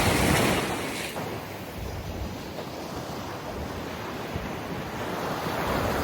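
Ocean surf rolls onto Benalmádena beach in Málaga as a steady, broad wash of waves, heaviest at the start, with wind buffeting the microphone throughout.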